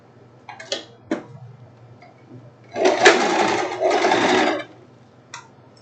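A sewing machine runs in a burst of about two seconds, stitching a seam on a thin silk tank top, with a few sharp clicks and taps before and after.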